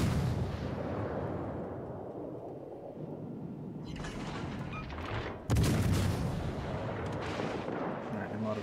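Ship guns firing in World of Warships Legends, a naval battle game with a light cruiser's 152 mm guns, heavy booming volleys rolling over a dense battle din, with one sharp loud blast partway through.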